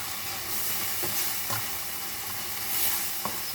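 Tomato sautéing in a pan, a steady close sizzle and frying hiss with a few soft stirring scrapes throughout.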